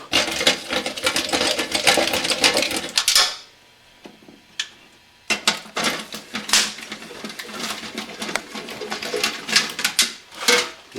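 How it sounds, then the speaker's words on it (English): Tools working 10 mm bolts out of a Mercedes 300D air filter housing, with irregular metallic clicks, ratcheting and clinking in close bursts, a brief quieter pause in the middle, then more rattling. "inside the housing there are 3 10 millimeter bolts, evenly spaced. I need to take those off."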